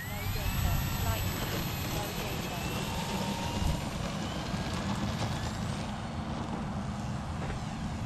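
A radio-controlled Air Tractor model airplane takes off into a stiff wind, its engine a steady, loud drone with broadband wind noise throughout.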